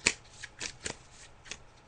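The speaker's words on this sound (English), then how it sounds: "I'm just shuffling the cards now in relation to that question." Tarot cards are shuffled in a few quick, soft riffling bursts spaced irregularly, close and fairly quiet, with no talking.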